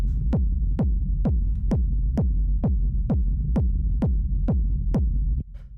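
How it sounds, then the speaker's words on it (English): A bassy, round lo-fi techno kick drum thumps steadily at 130 BPM, about a dozen evenly spaced booming hits alone with a warm low tail, cutting off near the end. "First sound we have here is the kick,"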